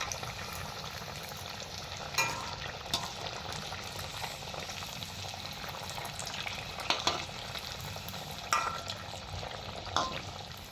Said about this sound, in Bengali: এবার আমি কাটলেটগুলো ভেজে নেব